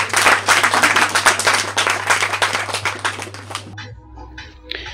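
An audience claps for the guest of honour at a college graduation ceremony, dense loud applause that gradually thins out and stops near the end, leaving a quiet room.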